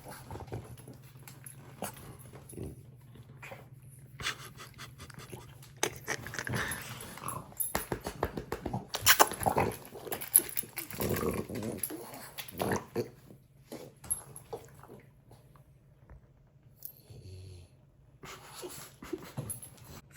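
A dog pants and snorts close by indoors in an irregular, uneven rhythm, with louder snuffling bursts in the middle stretch over quiet room noise.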